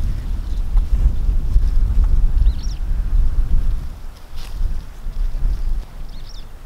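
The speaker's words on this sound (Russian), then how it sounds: "ну здесь дикий ветер" Strong, gusty wild wind buffets the microphone outdoors in a garden and building site, a continuous rumbling roar that swells and dips, with faint bird chirps far off.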